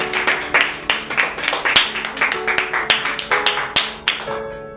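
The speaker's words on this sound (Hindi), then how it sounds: "जोरदार तालियां" A church congregation claps hard and steadily during a sermon, sharp claps landing in a fast, fairly even rhythm that stays loud from start to finish, with faint voices mixed in.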